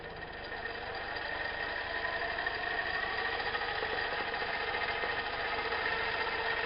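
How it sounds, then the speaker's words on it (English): A small electric motor under PWM speed control hums steadily as it is turned up from very slow toward full speed, a continuous mid-pitched whine and buzz held at an even level throughout. "now we'll go ahead and watch the motor here while I turn this up now"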